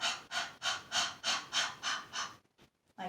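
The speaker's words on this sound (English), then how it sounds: "We're going to keep our hands on our bellies and we're going to breathe in" Eight deep, rhythmic breaths out in a steady series during a children's belly-breathing mindfulness exercise, each exhale a soft airy whoosh, close and clear, followed by a brief pause.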